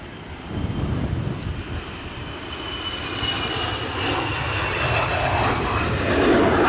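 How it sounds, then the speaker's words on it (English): Embraer airliner taking off at Edinburgh Airport in strong wind, its engine roar building gradually from a distance under heavy wind buffeting on the microphone. "Embraer is on the centre line with landing/takeoff flights fully engaged"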